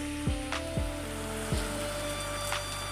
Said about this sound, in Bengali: দেখো কেমন মুষলধারে বৃষ্টি পড়ছে